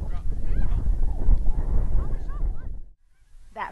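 A flock of snow geese flying low in fog over a hunting spot, a dense chorus of overlapping honks up close against wind noise that fades out, then a single fresh honk at the end.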